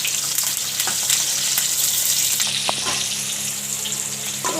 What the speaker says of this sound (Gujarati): થોડા થોડા આપણે ફેરવીને ફ્રાય કરી લેવું